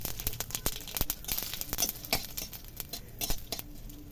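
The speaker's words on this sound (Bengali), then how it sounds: "কড়াইয়ে কিন্তু আমি একদম সামান্য তেল দিয়েছি, তেল গরম হয়ে গেছে। আমি সর্ষেটাকে দিয়ে দিচ্ছি আর তার মধ্যে দিচ্ছি একটা শুকনো লঙ্কাকে ছিঁড়ে।" Mustard seeds and a torn dried chilli go into a little hot oil in a wok, giving a rapid, irregular scatter of sharp pops and crackles, close and moderately loud.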